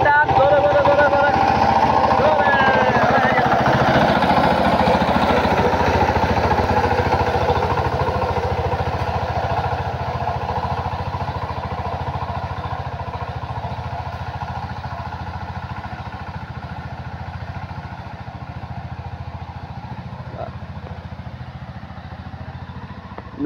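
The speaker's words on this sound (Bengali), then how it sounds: "মেশিন দিয়ে হাল চাষ করার ভিডিও দেখেন কিভাবে ডিজিটাল মেশিন দিয়ে হাল চাষ করছে" A motorized tiller plows a field being prepared for planting cabbage, its engine a continuous rough, clattering drone close by that fades slightly over time, with faint voices in the background.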